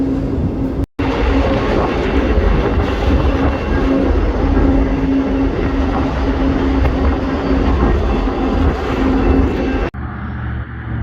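A freight train rolls along the rails on a high line route near Spokane, a loud, steady rumble and clatter with a sustained tonal whine running through nearly the whole stretch, briefly cutting out twice and quieter at the very end.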